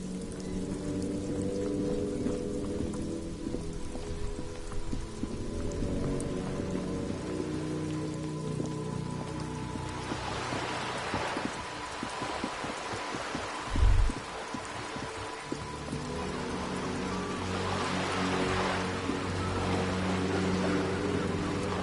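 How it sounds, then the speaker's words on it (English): Steady, dense rain falls without a break in the rainy streets of the Disco Elysium video game, a close, even hiss with faint low tonal hum beneath and one brief low thump midway. "This rain will not let up anytime soon."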